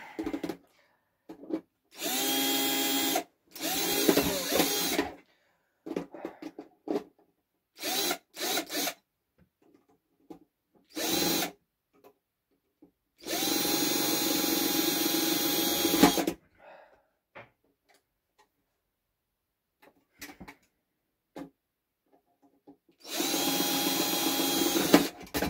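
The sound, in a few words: drill drilling into a metal box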